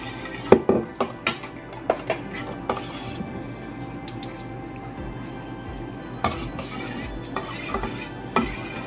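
Tapsilog meat, heavily seasoned with black pepper, is stirred in a metal pan with a utensil, with repeated clinks and scrapes against the pan over a low steady kitchen hum and faint sizzle. No one speaks.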